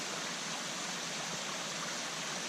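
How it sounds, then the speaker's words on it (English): Spring water spills out of a ridge side and cascades down rock into a stream at a campground near Hohenwald, Tennessee, making a steady, even rushing hiss with no breaks and no voices. "That is spring water coming directly out of the side of the ridge, cascading down the rock and into the stream."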